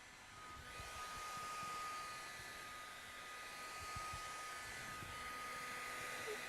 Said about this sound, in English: We heat the vinyl and we go directly into the recess of the deformation.